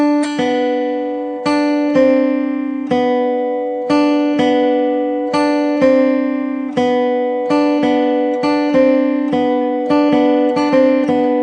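Guitar picking a slow single-note melody from a song's solo, clear plucked notes at an even pace with each one ringing before the next, played alone and close.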